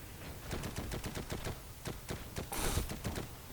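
Automatic bursts from a PPD-40 submachine gun in the WWII shooter Heroes & Generals: rapid rhythmic volleys of shots, fairly close, with a louder burst near the end.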